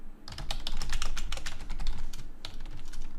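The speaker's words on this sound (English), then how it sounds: "So now if we type in here, you can see it copies here as we're typing" Someone types steadily on a computer keyboard into a text box, giving a quick, uneven run of close plastic key clicks over a low room hum.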